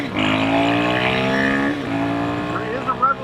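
A Royal Enfield Himalayan 452 motorcycle engine fitted with an AEW performance exhaust pipe revs steadily and loudly, then dips briefly and rises again with a few sharp blips at the end.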